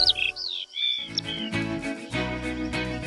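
Cartoonish bird chirps and tweets from the Paw Patrol Rescue World game, bright high calls in the opening second, then giving way to upbeat game music with a steady beat underneath.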